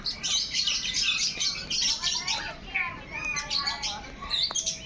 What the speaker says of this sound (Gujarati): આ છે મિત્રો લવ બર્ડ.